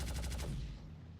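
Rapid burst of automatic fire from the remote turret of an Anvil Paladin ship in Star Citizen, about six evenly spaced loud shots over half a second, then a fading rumble tail.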